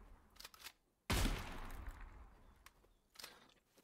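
A single loud, booming gunshot from a hand cannon in Gunsmith Simulator cracks out and decays into a rumbling tail, with a few quieter clicks and handling noises before and after.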